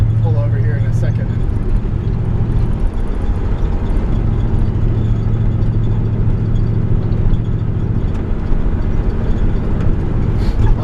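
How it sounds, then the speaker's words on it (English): Steady low engine drone of a 1954 Ford F-100 pickup truck cruising smoothly down a road, a constant rumble with road noise throughout, people talking over it inside the cab. "The truck drives nice and straight."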